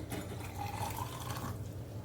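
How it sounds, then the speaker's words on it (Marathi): Lukewarm water poured for making coffee, a short splashing trickle with a brief rising gurgle as the cup fills, close and fairly soft, with no speech. "आता मी हे कोमट पाणी वापरते"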